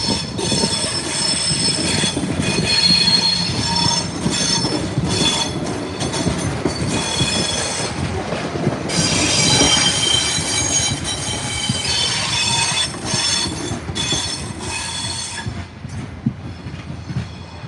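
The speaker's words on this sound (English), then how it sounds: "No, we just had a Seaford train, sorry, Grange train depart." An Adelaide Metro commuter train to Grange departs and rumbles past up close, metal wheels squealing and screeching over a steady heavy rolling roar, loud throughout with no talking.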